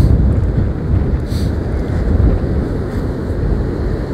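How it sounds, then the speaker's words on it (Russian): Strong gusting wind blows along the seashore at Anapa, a loud, constant roar buffeting the microphone with no voices. "хотя и плюс, но ветер сильный, большой."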